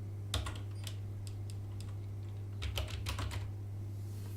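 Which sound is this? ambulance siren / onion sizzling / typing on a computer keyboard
typing on a computer keyboard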